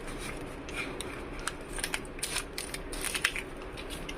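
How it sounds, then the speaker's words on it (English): Scissors snipping through colourful stationery paper to trim excess from homemade cold process soap packaging, producing a series of quiet, crisp cuts and crinkles at an irregular pace. "you can just cut the extra part."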